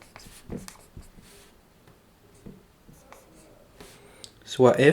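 A pen scratches across paper in short strokes with pauses between them, close and fairly quiet, before a voice starts speaking at the end.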